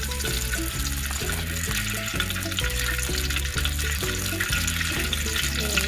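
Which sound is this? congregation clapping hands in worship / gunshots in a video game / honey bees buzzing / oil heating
oil heating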